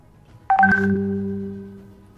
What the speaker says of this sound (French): J'ai mon WhatsApp allumé, d'où cette sonnerie,